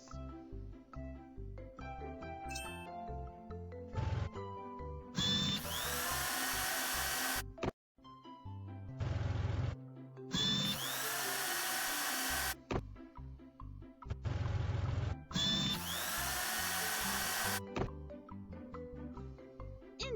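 A power drill in a construction vehicle scene whirs in several loud, sustained bursts that start and stop, separated by short gaps of lower mechanical noise, with no talking.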